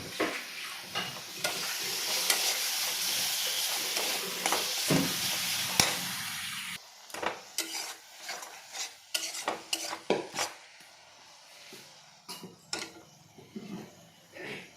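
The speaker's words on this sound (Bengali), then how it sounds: "লবণ হলুদ দিয়ে আবার অল্পটা আমি ভাজবো।" Ground spices frying with salt and turmeric in a pan for a chutney: a loud, continuous sizzle at first, then it drops to quieter frying broken by repeated sharp scrapes and taps of a spoon stirring.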